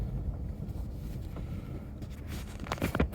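Wind buffets the microphone of a vehicle driving through rural Montana, making a steady, close, rumbling roar with a slight swell near the end.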